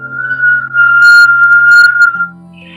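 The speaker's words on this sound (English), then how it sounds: "You want to listen to that whistle on the exhale" A steady whistling exhale through puckered lips during a Kundalini yoga breathing exercise, one long sustained tone lasting about two seconds, close and clear, then fading out.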